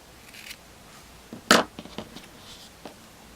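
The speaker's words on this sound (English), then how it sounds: "So we're going to cut the yarn," Crochet yarn gets cut with scissors: one sharp snip stands out in a quiet room, surrounded by a few softer clicks and rustles of handling.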